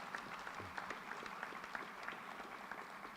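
An audience claps steadily through a scholastic coding competition awards ceremony in Arkansas, with dense, even applause lasting the whole stretch and no talking over it.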